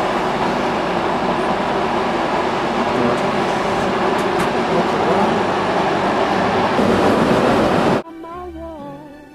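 A steady, loud train engine rumble with rattling runs continuously for several seconds, then cuts off abruptly as music begins.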